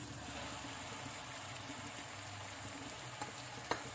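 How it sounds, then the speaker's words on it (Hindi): Onion paste frying over medium heat for a drumstick curry, a steady soft sizzle that stays low and even throughout, with a couple of faint utensil ticks near the end. "इसको भुनने देंगे, मीडियम आंच पर भुनेंगे, जिससे हमारा प्याज जले नहीं।"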